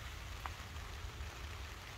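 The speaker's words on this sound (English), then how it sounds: "It is raining right now." Steady outdoor rainfall among potted succulents and cacti, a faint even hiss of drops on surfaces with no voices.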